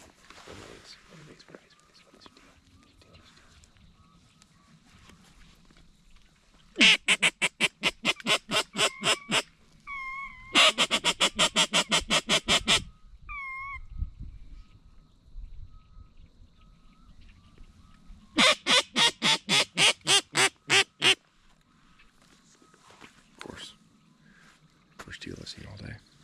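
Blue-winged teal calling as they flush up near a mud boat on a duck hunt, with bursts of rapid, repeated nasal calls in three clusters that come from nearby, and someone speaking quietly in between.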